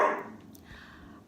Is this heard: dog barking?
yes